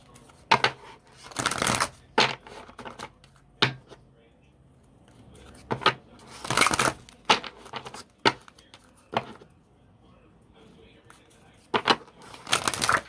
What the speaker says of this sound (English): I ain't even shuffle, so let me shuffle this.